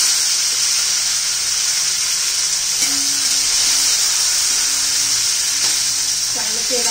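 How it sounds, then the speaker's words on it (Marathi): Green chillies frying with garlic in oil give off a constant close, bright sizzling hiss, with faint stirring clinks of a utensil in the pan and no talking. "आता हे मिरच्या घालून घेऊ।"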